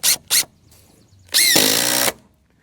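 A power drill drives screws into the framing of a backyard garage bay, with two short whirring bursts followed by a longer, louder, sustained run that winds up and then stops abruptly.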